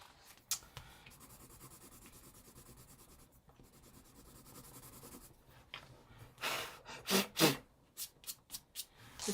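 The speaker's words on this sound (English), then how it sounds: "This pencil likes to cling to the paper." A pencil moves over paper in close, scratchy strokes. A soft steady rasp at first gives way to a run of quicker, louder scribbles and taps toward the end, with no talking.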